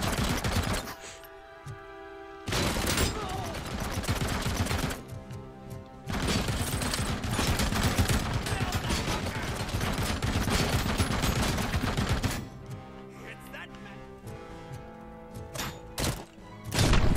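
Enemy gunfire in RoboCop: Rogue City rattles in long, dense bursts, loud and close, with short pauses between volleys and heavy thumping impacts.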